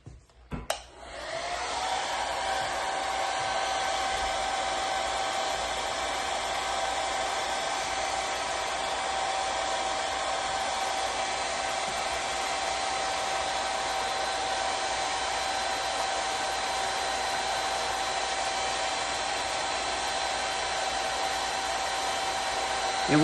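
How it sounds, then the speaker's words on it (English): A hair dryer, used on vinyl repair color coats, runs in one long continuous whir for over twenty seconds, steady and close, with a steady whine above the airflow rush. "which is why I like to use a hair dryer"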